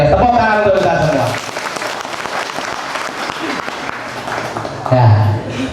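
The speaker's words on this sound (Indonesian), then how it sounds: "Tepuk tangan untuk kita semua." Audience applause fills a night gathering of a Nahdlatul Ulama religious event with Banser members, a dense, steady clapping that runs throughout alongside crowd noise, with a voice speaking at the start and end.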